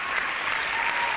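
Brief, dense clapping from an audience at a school music competition, a steady wash of many hands with no pause.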